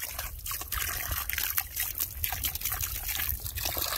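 Water trickling and splashing as a hose runs over pigs outdoors, a steady stream with irregular spattering and low rumble underneath, fairly close.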